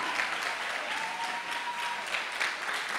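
A church congregation claps together in sustained, dense applause, steady and loud throughout with a few cheers rising over the clapping.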